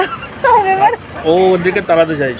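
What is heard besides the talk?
dogs barking at a temple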